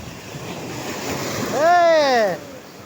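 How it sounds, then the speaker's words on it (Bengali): Sea waves wash up on the beach at Tajpur near Shankarpur and Digha, a steady rush of surf with a brief rising and falling tonal call near the end. "এই যে পানি উপরে উঠে চলে আসছে ঠান্ডা পানি কুলকুল"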